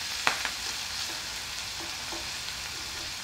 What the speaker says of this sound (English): now that it's sizzling